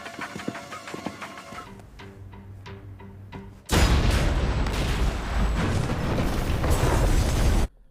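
A loud, rumbling explosion erupts in a film action scene and is followed by a sustained roar of blast noise. Quieter mechanical clinks and tones come before it.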